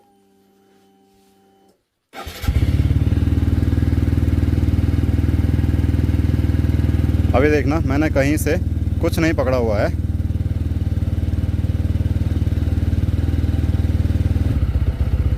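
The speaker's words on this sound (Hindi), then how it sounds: "बाइक तो न्यूट्रल पर है और रेस अचानक से हाई हो जा रही है" After a quiet opening, a motorcycle engine in neutral idles high and loud as it races up on its own, with someone talking over the steady drone midway.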